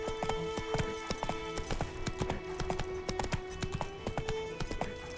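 Roach, the horse in The Witcher 3: Wild Hunt, gallops with rapid, even hoofbeats that keep up a steady rhythm throughout, close and clear over a faint sustained tone.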